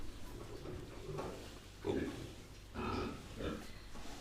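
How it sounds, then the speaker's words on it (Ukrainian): Piglets from a fresh litter of twelve grunting softly under a heat lamp in a pig pen, a few low grunts rising at intervals over a steady background hum. "Ну ось такі поросятки."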